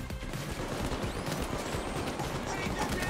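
Dense, continuous gunfire in a Payday 2 heist shootout: overlapping shots crackle steadily at a loud level with no clear gaps, while a voice can be heard underneath.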